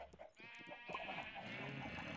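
A sheep bleats several times, a wavering, nasal cry with a few soft knocks around it, fairly close and clear.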